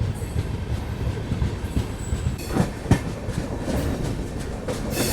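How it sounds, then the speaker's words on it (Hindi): Kashi Vishwanath Express picking up speed, heard from inside a 3AC coach: steady rumbling wheel noise with rhythmic clickety-clack over rail joints and occasional sharper knocks, continuous and fairly close. "और वाकई में अच्छी खासी एक्सेलरेशन ट्रेन करते हुए हमारी स्पीड पकड़ते हुए।"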